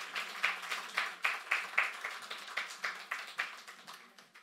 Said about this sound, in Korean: 우리 큰 박수로 우리